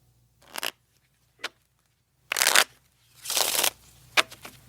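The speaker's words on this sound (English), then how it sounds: "So let me give the cards a little shuffle." A deck of playing cards is shuffled in several short bursts, some quick and some longer riffles, each separated by quiet pauses.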